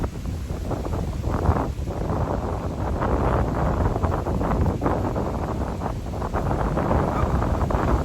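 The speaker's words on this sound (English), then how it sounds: "This wind is getting my plants." Strong outdoor wind blows hard across a garden of potted plants, a loud continuous roar with gusty surges buffeting the microphone throughout, with no voices.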